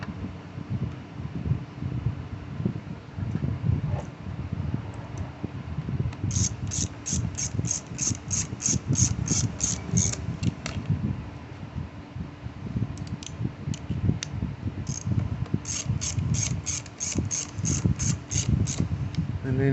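A ratchet tightens 7mm bolts on a Briggs and Stratton carburetor from a Craftsman M230 mower, giving bursts of rapid, close clicking over a steady background hum.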